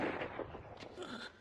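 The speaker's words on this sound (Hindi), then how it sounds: "गोली चलाओ।" Gunfire in a Hindi action movie scene: a few sharp, fairly faint bursts over a murky, noisy background.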